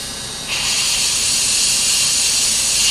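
An airbrush compressor hisses steadily while airbrushing paint onto a model, a loud broad airy rush that jumps in strength after a brief quieter start and then holds constant.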